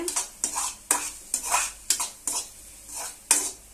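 Masala pasta with chili powder being stirred in a pan, rhythmic scraping strokes of a spoon on metal roughly every half second over a light sizzle, close and without speech.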